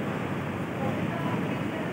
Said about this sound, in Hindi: कितनी तेज़ हवा चल रही है